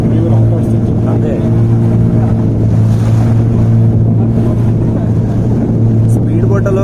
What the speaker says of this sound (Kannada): ಸ್ಪೀಡ್ ಬೋಟಲ್ಲಿ ಹೋಗೋರ್ಗಂತೂ